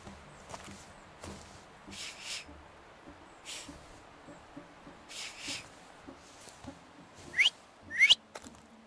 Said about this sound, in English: So, have you mastered whistling?